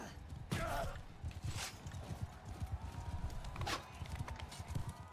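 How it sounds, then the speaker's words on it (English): Horse hooves clip-clop steadily in the Bannerlord game, with a neigh or whinny breaking through, loud and close, while a voice speaks briefly over the hoofbeats. "Trying to get me a horse here."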